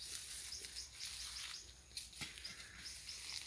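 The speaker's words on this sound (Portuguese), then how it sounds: "Os passarinhos estão cantando, alegres." Small birds chirp and tweet in bright, scattered calls around an organic backyard orchard with mango, lemon, avocado, banana and coconut trees, heard at moderate distance over a steady outdoor hiss.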